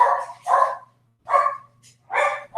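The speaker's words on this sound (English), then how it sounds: "Sorry, guys, for the dogs." Dogs barking nearby during a history lecture on the Jeffersonian period, three loud bursts of barks spaced about a second apart with a faint low hum underneath.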